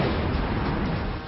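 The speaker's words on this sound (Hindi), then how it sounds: "Pinaka multi barrel rocket launcher से ताबड़तोड़ बरसते रॉकेट" Pinaka multi-barrel rocket launcher firing a volley of rockets during the Exercise Topchi weapons demonstration, a loud, continuous roaring blast with no voices.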